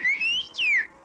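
A cartoon character whistles two bright, clear notes, one rising and one sliding down, each lasting under half a second with a short gap between them, loud and close with no other sound.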